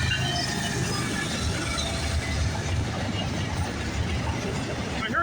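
A CN freight train rumbles steadily past at close range at a level crossing near Pefferlaw Road, Ontario, with a continuous roar of wheels and faint metallic squeals over the noise.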